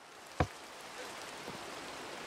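Steady rain hisses as a soft, even wash of noise in a Bendy and the Ink Machine fan map, with one sharp click near the start and no talk.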